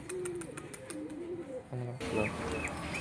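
Big Madras pigeons coo in low, repeated calls close by, with a brief flutter and shuffling, and a rougher stretch of activity near the end.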